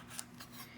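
Scissors snip through a thin egg tortilla omelette about an eighth of an inch thick, giving a few soft, close, quick cuts over quiet background.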